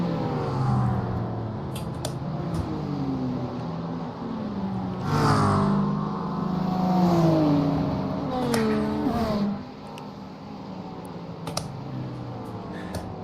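LMP2 and GTP prototype race cars approach and pass during a GT3 endurance race at Watkins Glen in iRacing, with rising and falling engine whines and several overlapping revving passes before a quieter stretch.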